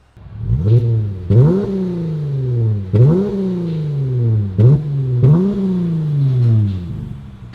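A Dodge Challenger GT V6 with its rear muffler deleted revs sharply five times, each blip rising to a loud, raspy exhaust roar and then dropping back to a rumbling idle.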